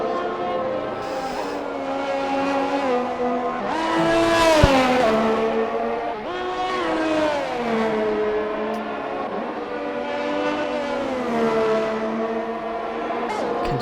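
A Formula 1 car from F1 2021 screams through a fast lap at the Saudi Arabia circuit. The high engine pitch rises and falls sharply through gear changes and corners, loud and steady the whole time.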